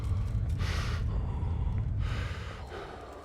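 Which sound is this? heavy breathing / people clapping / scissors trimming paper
heavy breathing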